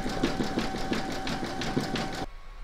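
A sewing machine zigzag-stitches along the join of a square scalloped placemat, running in a fast, steady rhythmic chatter close by before stopping abruptly near the end.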